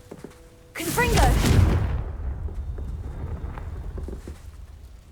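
A fire spell cast in Hogwarts Legacy erupts as a loud burst with a crackling blast, then decays into a rumbling tail over a low game ambience.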